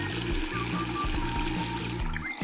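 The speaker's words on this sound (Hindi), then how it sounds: "हमें इसे महज पानी में भरना है।" Water runs steadily into a small children's pool, a continuous close trickling and splashing flow that stays fairly quiet throughout.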